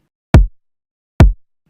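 A pair of heavy kick drum hits run through Decapitator saturation and a limiter, each a thick, full low thud with a sharp click and a brief tail, isolated with no other sound.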